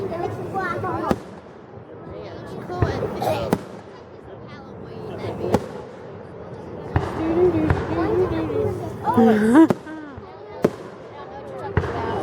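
Fireworks exploding in Lewisville at night, with sharp booms and pops at scattered intervals throughout, some close and loud, under continuous conversation and excited voices from nearby onlookers.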